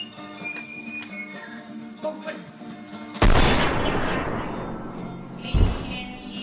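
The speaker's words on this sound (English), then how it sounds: "before we start this old-fashioned gunfight" Gunshots in an old-fashioned gunfight in a music video, a sudden loud blast about halfway through with a lingering rumble, then a second sharp shot.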